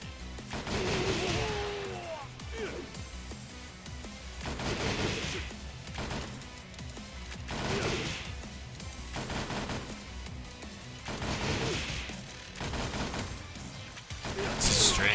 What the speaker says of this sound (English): Shooting a gun in this game.